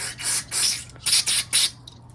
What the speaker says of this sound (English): Spray all around.